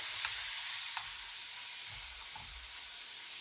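Food cooks gently over low heat in a pan, a soft, even hiss and sizzle throughout with a couple of faint utensil taps and low rumbles, quiet and without talk.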